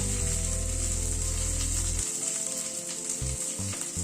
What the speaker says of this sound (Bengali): আলু আর বিনস দুটোকে একটুখানি হালকা করে নাড়াচাড়া করে নিচ্ছি।